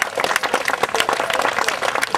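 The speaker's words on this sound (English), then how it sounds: "let's give them all a round of applause" A small audience at a historical reenactment performance claps for the actors, distinct individual hand claps in a brisk, uneven rhythm, close and moderately loud.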